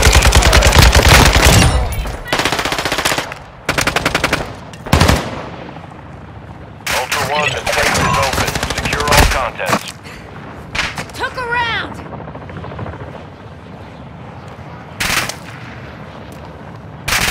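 Bursts of automatic gunfire and heavy explosive thumps from a Warzone 2.0 match, loud and repeated in clusters between short pauses, with a player talking over the action.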